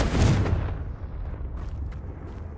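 A Confringo fire spell cast in Hogwarts Legacy bursts with a loud, booming blast up front, then decays into a rumbling tail with faint crackles, alone without talk.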